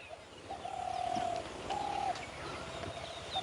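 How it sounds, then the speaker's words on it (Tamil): A spotted dove coos from close by outdoors in a village garden, two to three drawn-out calls with gaps between them. Faint chirps from other birds sit underneath, and no one speaks. "ஒரே மணிப்புறா கத்துற சத்தம் தான் கேட்குது."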